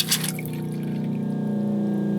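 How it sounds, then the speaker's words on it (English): Pressurized water runs from a tap in an off-grid tiny house, fed by a loud pump that has just kicked on. A sharp splash comes first, then a steady hum and rushing flow hold at an even level. "That's pressurized running water, people."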